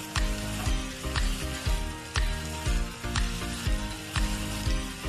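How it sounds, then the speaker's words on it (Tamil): Boiled noodles go into spicy chicken masala frying in oil, making a loud, steady sizzle. Stirring strokes repeat in a regular rhythm about once a second, and nobody speaks. "நம்ம வேக வச்ச நூடுல்ஸ் எல்லாம் நம்ம சேர்த்துக்கலாம்."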